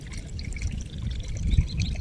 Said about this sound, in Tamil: இங்கே பாருங்க தண்ணி எப்படி ஓடுது